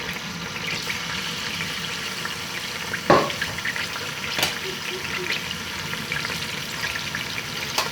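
Chicken, one kilo, frying in oil in a karahi for Peshawari chicken karahi, a steady broadband crackle across the whole stretch with a sharp clatter near the middle and a couple of softer knocks later.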